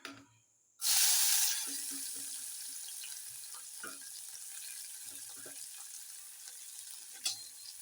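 Cumin seeds and onion hitting hot oil for a green tomato curry, a sudden loud sizzle after a short silence that settles into steady crackling frying with faint stirring taps.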